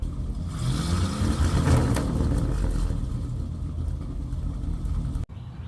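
A 1973 Travco motorhome engine runs with a newly fitted exhaust, a steady close rumble that swells slightly early on before cutting off abruptly near the end.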